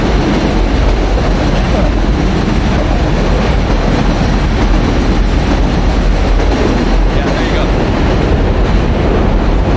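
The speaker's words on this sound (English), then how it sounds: "the audio from this video isn't just completely messed up because of these trains that keep running through" Loud continuous rumble and clatter of a train running past close by on an elevated railway in New York, wheels clacking and rolling steadily throughout with no break.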